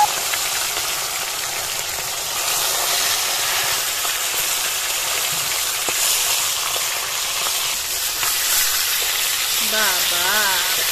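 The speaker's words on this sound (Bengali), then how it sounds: "দেখো মাছটা এবার ভেজে নিই।" Spiced fish frying in oil in a hot iron kadai, a steady loud sizzle and hiss lasting the whole time, with faint voices in the background near the end.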